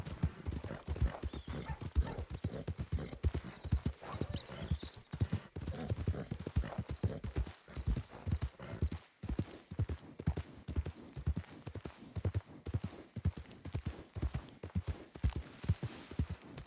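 Steady clip-clop of horse hooves at a walking rhythm in the video game Red Dead Redemption 2, close and continuous, with brief pauses and soft background ambience.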